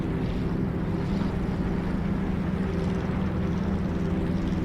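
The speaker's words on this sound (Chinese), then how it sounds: "等一下，我好像听到了西山号的声音" The engine of the ship Xishan, a constant low droning rumble with a windy hiss over it, steady and unbroken, with no voices.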